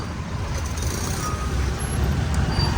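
Heavy road traffic of trucks and cars on a crowded, jammed street in Pune, a dense, steady engine rumble close by that holds throughout with no clear voices.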